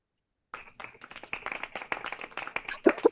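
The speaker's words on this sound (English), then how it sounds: "Oh, clap." A small group claps hands in a quick, steady patter for about three seconds after a moment of silence, growing slightly louder toward the end.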